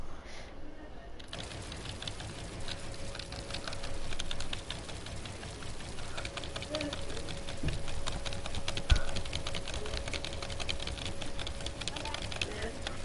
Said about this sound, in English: I'm gonna put my mic close to the keyboard and mouse